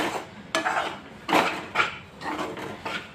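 Flour being dry-roasted for modak in a pan, with a utensil stirring and scraping against the metal: irregular scrapes and clinks, close and moderately loud, with short bursts separated by brief pauses and no talking.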